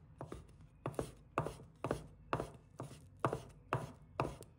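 A kitchen knife chopping dried shiitake mushrooms on a board in steady, evenly spaced strokes, about two per second, each a crisp close knock, with no voices.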